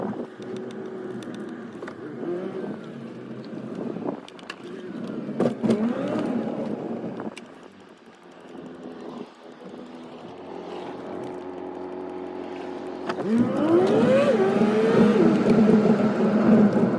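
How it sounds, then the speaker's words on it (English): A car driven outdoors gives a steady engine hum with rising and falling whine as it changes speed, swelling louder near the end, heard alone at moderate distance. "So I'm gonna go and take the car outside"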